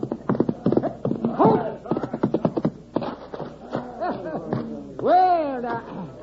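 Horse hooves clip-clop in an old-time radio show, a run of rhythmic clops heard alongside speaking voices and a whinny-like cry near the end.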